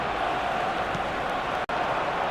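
A steady roar of a stadium crowd in the football game eFootball at a match in Munich, a continuous dense wash of voices with a brief cut near the end.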